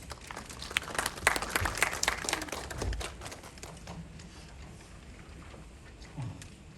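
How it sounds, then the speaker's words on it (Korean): Attendees at a labor-policy briefing clap to welcome a speaker. The crowded applause is moderate and close, then thins and fades away within about four seconds, leaving faint room noise. "큰 박수로 맞이해 주시기 바랍니다"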